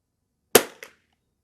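A CZ rifle fires Eley Club Xtra ammunition at a shooting range: one sharp, close crack, followed a moment later by a fainter second report, then silence.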